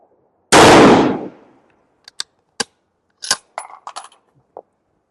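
A rifle with a new barrel fires one loud, sharp shot during a powder test, its blast decaying over about a second, followed by scattered fainter cracks and clicks from nearby handling.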